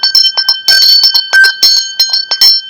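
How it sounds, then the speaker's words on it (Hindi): Temple bell rung repeatedly during Navratri, loud metallic clangs struck in an irregular rapid series with ringing overtones, close and alone. "देखो ये नवरात्रे हैं, तो ये जो घंटा बजता है"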